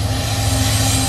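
CN freight train with a mid-train DPU locomotive rolling past, a loud, close, dense rumble of engine drone and wheel noise over a very short moment.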